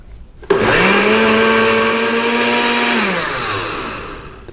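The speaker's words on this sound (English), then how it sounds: "This is an ordinary blender, nothing fancy about it in the least." An ordinary household blender whirs loudly as it grinds almonds into almond milk, starting abruptly and running as a steady high-pitched motor drone before easing off near the end, with no talking.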